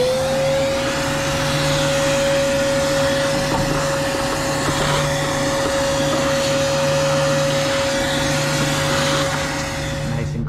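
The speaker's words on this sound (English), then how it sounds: "Gonna finish this off with a quick little vacuum." A vacuum cleaner runs steadily over an AC condenser coil, a loud, constant whine with a steady hum and airy hiss that holds unchanged from start to finish, nearby and without talk.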